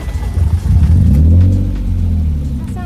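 A BMW E36 engine running badly, with a loud, uneven low rumble that swells and sags as the revs rise and fall, close to the microphone.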